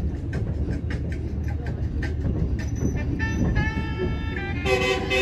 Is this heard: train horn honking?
yes